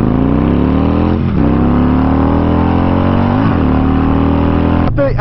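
Motorcycle engine pulling hard from a standstill toward 60 mph, loud and close, revs climbing steadily with two brief dips at gear shifts before rising again, ending with a sudden change near the end.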